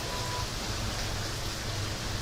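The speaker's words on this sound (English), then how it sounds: "The rain's falling straight down now." Steady rain falls straight down outdoors, a constant broadband hiss with a soft low rumble, even and moderately loud throughout with no voices.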